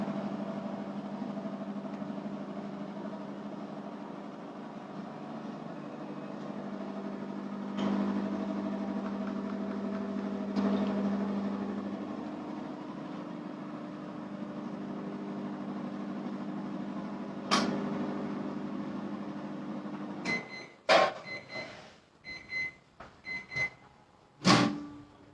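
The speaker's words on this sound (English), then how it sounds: "I have put it for a minute because I know how my microwave works" A home microwave oven hums steadily while melting chocolate, a constant close drone with faint clicks, ending in a series of sharp beeps and clunks as the door opens.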